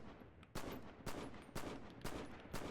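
S&W rifle firing in the Enlisted video game, five loud sharp gunshots at an even pace roughly half a second apart, each with a short decaying tail.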